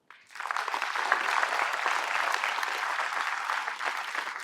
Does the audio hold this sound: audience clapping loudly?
yes